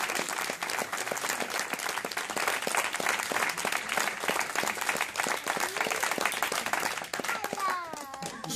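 A theatre audience claps in a sustained ovation, dense and loud throughout, with some individual claps standing out. Near the end a voice rises briefly over the applause.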